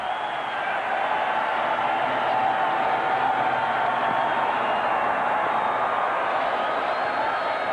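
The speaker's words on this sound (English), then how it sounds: "this crowd, which is whipped into a frenzy as we get started" A 1991 Monday Night Football stadium crowd roars as the game kicks off, a dense, steady wall of distant cheering and noise that holds unbroken from start to finish.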